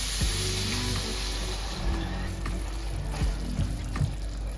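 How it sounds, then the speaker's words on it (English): Salmon simmering in sauce in a lidded pan, a steady soft sizzle and bubbling with occasional pops and crackles, close and continuous. "Next, we'll add the sauce and let simmer for a few minutes."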